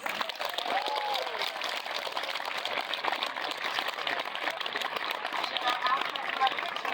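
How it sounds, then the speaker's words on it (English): Steady dense applause from a jousting tournament crowd at Arundel Castle, a continuous broadband wash of many hands clapping outdoors, holding at an even level throughout with a few faint voices mixed in. "please give all 4 competitors one big round of applause"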